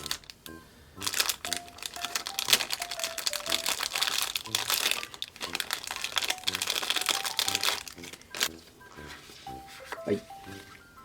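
Plastic and paper packaging of a ball-jointed resin doll from a Rozen Maiden Suigintou set crinkles and crackles as it is opened and unwrapped, in dense bursts of rustling and crunching close up with short pauses.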